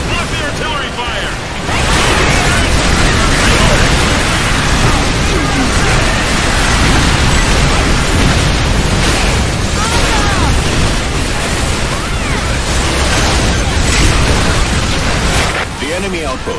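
Artillery fire in the sci-fi shooter Earth Defense Force 5, a dense, continuous roar of loud explosions that blur into a rumbling wall of noise and fade at the end, with voices speaking faintly underneath.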